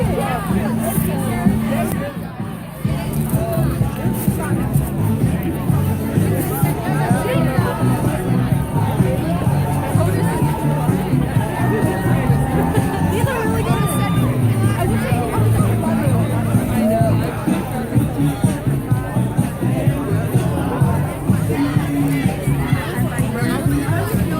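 Large crowd gathered outdoors at a March For Our Lives rally in Des Moines, a steady murmur of many voices and chatter filling the space throughout, with nearby talk on top.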